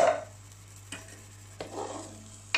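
Water is added to a hot wok of chicken curry cooking with green beans, giving a brief loud sizzle followed by quieter bubbling and a few soft stirring scrapes.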